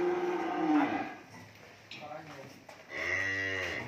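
Cattle at a cattle farm in Mỏ Cày Bắc district, Vietnam, give loud, drawn-out moos close by while being led onto a truck for delivery, one long call at the start and another near the end.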